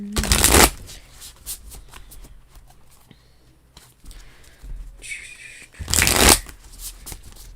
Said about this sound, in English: I'm already shuffling for them.